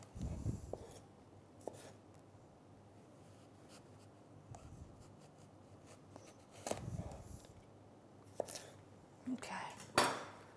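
A knife cutting a big zucchini into thin slices, quiet intermittent scraping cuts with a few sharper clicks against the board.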